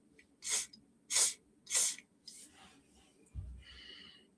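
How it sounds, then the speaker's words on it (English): Three quick, light bursts of mist from a spray bottle hiss out at an even pace, followed by softer fading puffs and a brief low thump near the end. "Try and give this as light a mist as possible."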